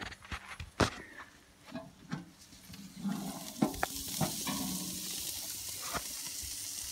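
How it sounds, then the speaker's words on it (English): T-bone steaks sizzle on an outdoor grill at a lakeside camp, a soft continuous hiss with scattered clicks and pops that grows denser and steadier partway through. "Got some T-bone steaks on the grill."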